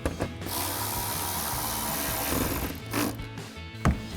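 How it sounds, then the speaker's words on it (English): A hand ratchet with a 7mm socket tightens a grille bolt on a 2019-2021 Sierra 1500 Denali, giving quick close clicking pawl strokes over a steady background hum, with no talk. "grab our ratchet, 7mm socket, tighten that down."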